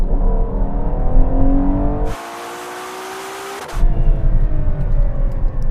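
Ferrari Purosangue SUV at full throttle in a drag race, a loud, steady engine roar that breaks off for a broad hiss before the revving returns, with no voices.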